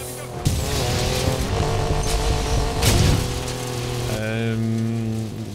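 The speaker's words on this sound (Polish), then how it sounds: "zaraz weźmy sobie Mazda RX-7 i zobaczymy, jak silniki Wankla brzmią" A Mazda RX-7 with a Wankel rotary engine revs loudly in the racing game NFS Payback, a continuous buzzing engine drone with tire squeal and a boom near the middle.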